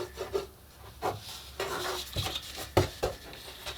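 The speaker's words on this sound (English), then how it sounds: "Now I can burnish that down." Paper glued onto a model steam locomotive boiler is burnished down by hand, giving soft, close rubbing and rasping strokes in short repeated passes with a few light taps, and no talking.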